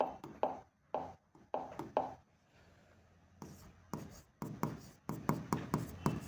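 Chalk or marker strokes on a board during an accounting lesson, a series of short scratchy bursts in irregular clusters, close and moderately loud, with a brief quieter gap in the middle.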